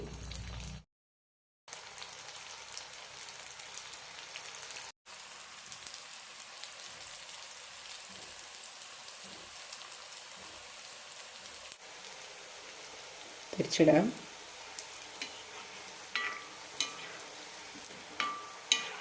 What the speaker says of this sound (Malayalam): ഇനി ഇതെല്ലാം വറുത്തെടുക്കാം